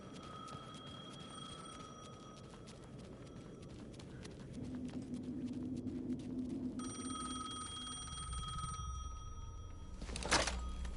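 A telephone rings in Alan Wake 2, faint repeated tones sitting over low ambient rumble and clopping, growing more distinct toward the end before a brief louder burst.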